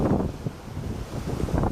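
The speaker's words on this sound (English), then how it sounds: "the waves are awfully choppy here today" Wind gusts buffet the microphone at a small Lake Michigan beach in Sleeping Bear Dunes National Lakeshore, while choppy lake waves wash and roll steadily underneath, a loud, continuous low rumble with no voices.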